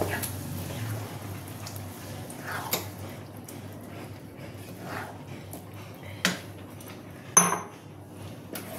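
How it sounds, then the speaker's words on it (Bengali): Boiled arhar dal is stirred in a metal pan, giving soft wet squishing and occasional sharp clinks of the spoon against the pan, fairly quiet and sparse over low background hum. "এবার আমি দেবো হাফ কাপ অরহরের ডাল সেদ্ধটা, ভালো করে নেড়ে নেব।"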